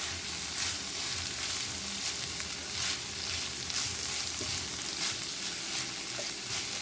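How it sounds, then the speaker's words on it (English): Tempeh sausage frying in a pan while being stirred, with a steady dense sizzle throughout and soft scraping stir sounds; no talking. "you're kind of stirring it, because you don't want it to stick to the bottom or burn"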